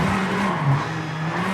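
A rally car in the racing game V-Rally 4 hill climb, with a loud, steady engine drone and tyre screech running together throughout, no talking.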